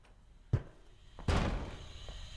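A hacked door opening in the video game Observer, two heavy mechanical thunks about a second apart, the second longer with a brief rumbling release, in a quiet setting.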